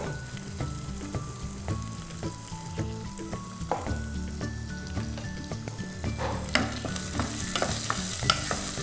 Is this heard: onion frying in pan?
yes